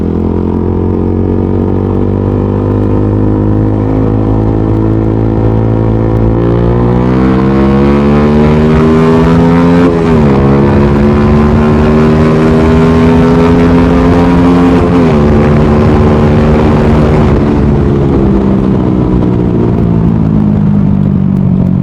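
A motorcycle engine pulls steadily uphill in fourth gear. It is loud and close throughout, with a continuous rising drone that swells and steps up in pitch as the revs climb.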